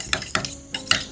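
A single beaten egg is whisked in a bowl for chicken soup, heard as four quick, close scraping strokes in an even rhythm.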